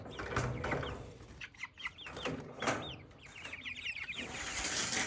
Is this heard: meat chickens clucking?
yes